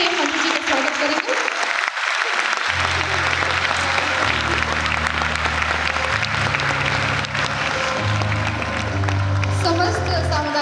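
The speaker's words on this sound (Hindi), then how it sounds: "आप सभी जोरदार तालियों से मंत्री जी का स्वागत करेंगे" An audience at a health officers' summit breaks into sustained applause to welcome a minister on stage, steady dense clapping lasting about ten seconds alongside an announcer's voice.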